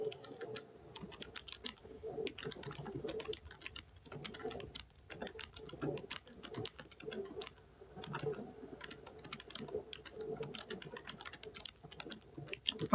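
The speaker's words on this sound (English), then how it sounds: "Oh no, you hear me typing." Continuous typing on a computer keyboard, a dense run of quick, light key clicks with short pauses between bursts, close and fairly quiet, no voices.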